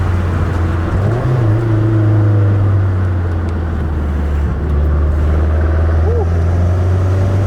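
A Mazdaspeed 3 hot hatch pulls hard at wide open throttle, building turbo boost toward third gear; a loud, steady engine drone fills the cabin throughout, rising briefly in pitch near the start.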